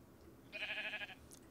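A single Minecraft sheep gives one short, nasal bleat, soft and brief against quiet game ambience.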